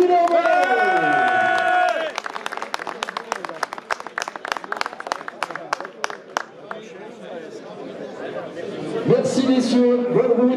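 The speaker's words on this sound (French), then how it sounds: "les applaudissements pour Alexis Villemot." An audience at a cycling team presentation at the Classic Grand Besançon 2024 applauds rider Alexis Villemot, a steady patter of many hands clapping for several seconds, with an announcer's voice over a loudspeaker before and after it.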